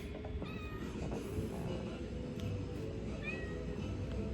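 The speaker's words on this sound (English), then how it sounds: "Cat, don't go in front of me, man." An indoor cat meows twice, softly and briefly, about three seconds apart, over a faint background hum.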